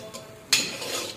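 A metal spoon scrapes and clinks in a pan as tomato puree is stirred into a cooking masala for a jackfruit curry. There is one sharp clank and then a short, close rasp of stirring.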